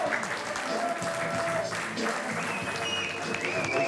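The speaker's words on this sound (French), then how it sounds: "Le spectacle, parce qu'il y a des applaudissements." Audience applause at the end of a stage show given by a former bank robber, a dense wash of clapping heard at moderate distance with some crowd murmur mixed in.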